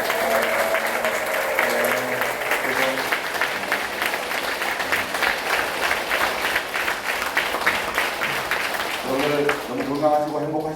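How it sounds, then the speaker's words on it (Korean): A lecture audience gives sustained applause for the lecturer, with crowd clapping continuing for several seconds and voices talking over it, especially near the end. "선생님 고생하시는 박수 한번 드리고."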